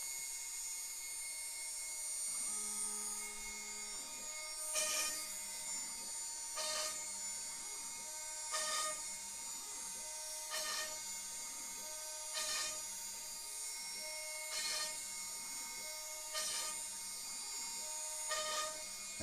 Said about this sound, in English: we're drilling at 60 inches a minute.